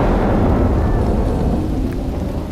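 A heavy thunderstorm roars steadily in a dramatized mythological television scene, with dense pouring rain and deep rumbling thunder filling the sound evenly and loudly throughout, and no voices.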